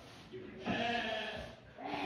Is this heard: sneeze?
no